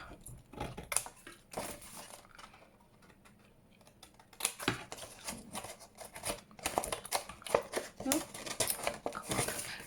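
Scissors cut through patterned craft paper while coin envelopes are made, giving a series of close, crisp snips and rustles in irregular bursts, with some murmured talk in between.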